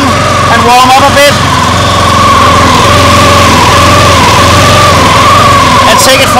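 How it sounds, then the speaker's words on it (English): A vehicle engine idles steadily as it warms up, loud and close, with a constant low hum and rough throb. A few brief knocks and rattles come near the start and again at the end. "I'm just gonna let it run and warm up a bit."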